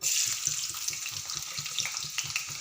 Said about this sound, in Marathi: तेल छान असं आपलं तापले आहे तर त्यामध्ये मी बारीक चिरलेला एक कांदा घालत आहे